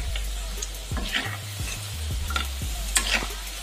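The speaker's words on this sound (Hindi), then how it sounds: "कड़छी से चलाते ही रहना है हमें, नहीं तो हमारी पकौड़ियाँ एक साइड से ही जल जाएंगे।" Moong dal pakoras sizzle steadily in hot oil as a ladle stirs and turns them, with scraping and clinking knocks against the pan repeating close up.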